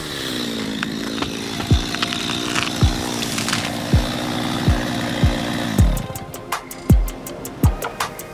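A chainsaw running steadily at close range and loud for several seconds during community ecosystem restoration work, with repeated sharp knocks or thumps punctuating the drone and the engine note shifting near the end.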